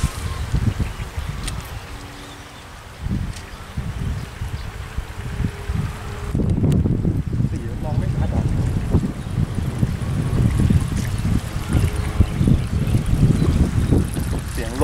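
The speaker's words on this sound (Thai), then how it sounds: "ลมมันจะดังเหรอ" Wind gusts hammer the microphone while fishing from a boat, a rough, rumbling roar that builds and stays heavy through the latter half, with people talking faintly beneath it.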